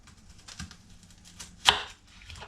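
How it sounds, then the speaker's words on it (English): A knife chopping the end off an onion on a board, with a single sharp, close cut standing out amid faint soft handling noises. "Now you want to take an onion, cut the ends off."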